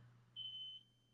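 A smoke alarm giving a single short, high-pitched chirp for a battery change, faint and brief against a quiet low hum.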